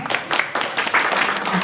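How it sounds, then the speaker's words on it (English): An audience at a women's health event applauds a panel of doctors with brisk, loud clapping that is close and continuous through the brief moment. "Round of applause."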